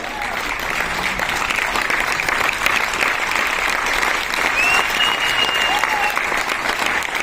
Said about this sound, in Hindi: मैं उनके तालियां बजवाना चाहता हूं।